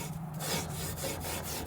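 Steel wool scrubbing a rusty, badly pitted 1955 Chevy bumper, a steady coarse rasping scrape repeated in quick back-and-forth strokes, close and continuous.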